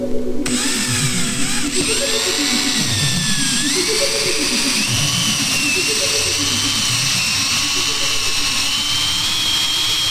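A power drill bores into the corner of a whiteboard. The motor whines loud and close throughout, its pitch sweeping up and down as the bit works through the material, with no pauses.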